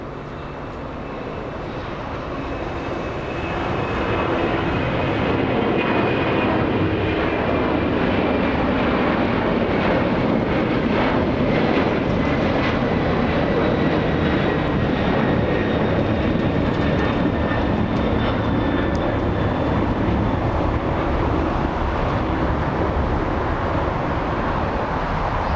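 A Boeing 767 airliner taking off and climbing out of Los Angeles International Airport, its engine roar swelling from a quiet start into a loud, sustained broadband rumble with faint whining tones drifting downward.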